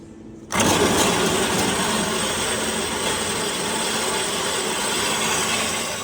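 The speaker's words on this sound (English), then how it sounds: "I'm just going to cut it to size using a bandsaw" A bandsaw starts abruptly and runs steadily, a loud dense grinding whine of blade cutting through steel box section, continuous for several seconds.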